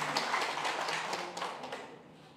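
Audience at a political gathering clapping, a brief burst of applause that fades out quickly, faint and distant.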